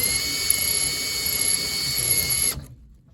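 A power drill whirs steadily while boring into an SFIC lock core, its high motor whine holding constant for about two and a half seconds before cutting off abruptly into silence.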